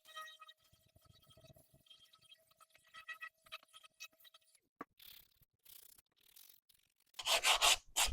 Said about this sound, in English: I got to do some sanding first